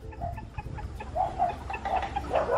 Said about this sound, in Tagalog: papakain po siya ng mga manok